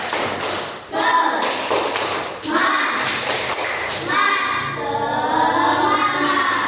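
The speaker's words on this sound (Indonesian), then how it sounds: "Tepuk semangat." An Indonesian primary classroom performs the tepuk semangat clapping chant, with children's voices chanting over rhythmic claps and thumps on desks, loud and close, in a lively group pattern.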